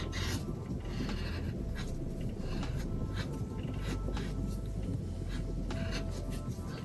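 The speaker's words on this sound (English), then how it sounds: "I'm gonna draw another line going to the top right there" Pencil scratches on paper as lines are drawn, a soft, continuous rasp made of short repeated strokes, close and quiet with no voices.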